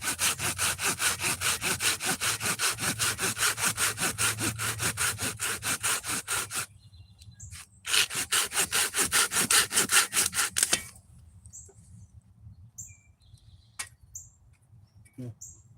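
A hand saw cutting through damp wood at a campsite, with steady rhythmic back-and-forth strokes in two loud bursts separated by a brief pause, followed by quieter ambient sounds and faint bird chirps.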